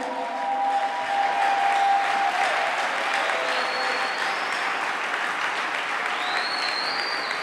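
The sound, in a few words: church congregation applauding to acclaim Jesus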